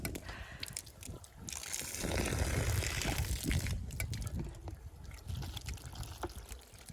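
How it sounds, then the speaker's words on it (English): Well water from a cheap hand pump at an off-grid property, gushing and splashing in surges that rise into a steady pour mid-clip, then return to uneven dribbles and splashes, close by and without talk. "That's got to be well water."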